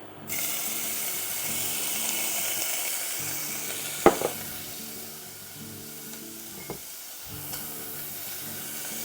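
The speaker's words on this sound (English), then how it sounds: "I'm going to add a little olive oil to get it started, and I'm going to put my bacon in." Bacon frying in olive oil in a pan gives a steady, close hiss of sizzling fat, broken by a few sharp knocks and clatters of the strips or a utensil against the pan.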